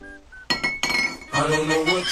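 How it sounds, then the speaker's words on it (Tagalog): Glass liquor bottles clink together in several sharp, ringing knocks, a couple of bright taps followed by a longer jangling rattle of glass, close and loud. "pag narinig mo yung bote ng alak, magigising ka talaga"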